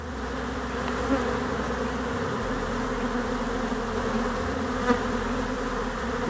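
Honeybees carrying pollen into the hive make a dense, steady buzzing hum close by, continuous and unbroken throughout.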